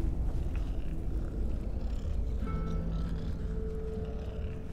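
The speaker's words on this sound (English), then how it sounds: "Their little growling sound like purring." A low, continuous creature growl from a Skyrim mod game, with a purring, rumbling texture, steady throughout, with a faint higher tonal hum joining midway.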